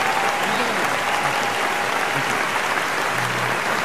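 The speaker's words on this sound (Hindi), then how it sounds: "आप तालियों के साथ स्वयं का स्वागत करें।" A live audience in Bangkok claps steadily to welcome the poet Swayam Srivastava on stage, a dense, unbroken wash of applause filling the hall from start to finish.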